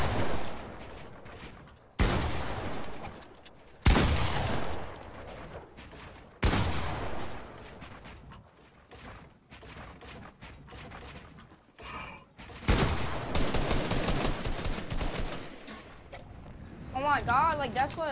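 Rapid gunfire bursts in a Fortnite Battle Royale 1v1 match, loud repeated volleys separated by short gaps, with game effects and people talking throughout.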